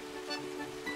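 A waterfall in the video game Old Man's Journey, a steady rushing hiss of falling water that stays at an even level throughout, with faint musical tones over it.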